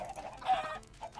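A single close Minecraft chicken gives a brief, clear cluck, a short bright squawk over faint background, alone and without voices.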